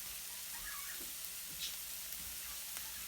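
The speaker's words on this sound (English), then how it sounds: "We're going to let these onions caramelize just a little bit." Onions and cumin frying in a pan on a kitchen stove, giving a faint, steady sizzle with soft crackles throughout and no voices.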